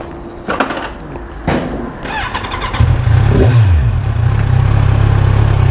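Kawasaki Z1000SX Ninja 1000 ABS sports tourer engine being started after some clattering handling sounds, catching with a brief rev that swoops up and settles into a loud, steady close idle.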